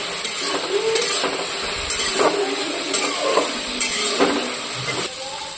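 Spice paste fries in a pan with a constant hissing sizzle, broken by repeated scraping and clinking as a spoon stirs it every second or so.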